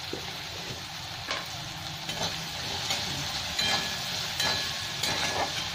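Bottle gourd and spices fry with turmeric in a pan, giving a steady close sizzle with occasional stirring scrapes and small bright crackles, no voices.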